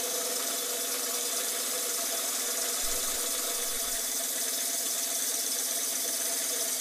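A DB-100 diamond band saw keeps running just after cutting through a glass bottle, giving a constant, bright mechanical whine and hiss that stays even and close throughout, with no talking.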